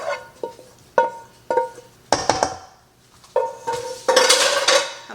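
Sautéed vegetables tipped into a pan for pesto pasta primavera, with sharp metallic clanks of a utensil and pan, scraping, and a louder rattling pour near the end.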